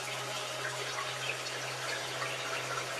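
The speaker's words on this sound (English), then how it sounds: "the fountain's sound changes as you stand on this side of it" A desert-oasis water fountain splashes in a steady, even wash of falling water, close and full, with a low constant hum beneath it and no breaks.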